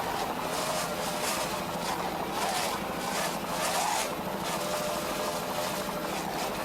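The C-class racing powerboat Rude Cat, C-12, roars past with a loud, continuous engine drone and rushing water, its pitch wavering steadily throughout.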